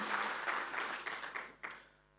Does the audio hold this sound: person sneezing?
no